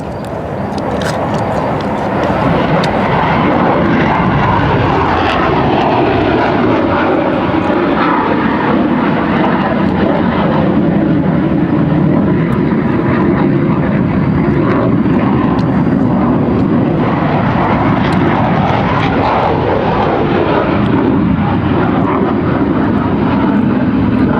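Fixed-wing aircraft engine roaring overhead, loud and steady throughout, with a broad rumbling drone that swells and holds without a break.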